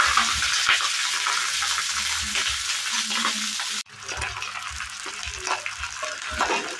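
Fried rice sizzling and being stirred in a hot pan, a steady close frying hiss with scraping stir strokes throughout, briefly dipping before continuing.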